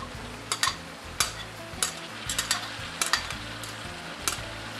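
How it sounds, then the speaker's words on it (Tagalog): Shredded green papaya and chayote sautéed in a pan, with a continuous soft sizzle and repeated scraping and clacking of a utensil stirring in irregular bursts. "Igigisa muli natin ito ng 10 minuto o hanggang sa makuha ang tamang pagkakaluto ng papaya."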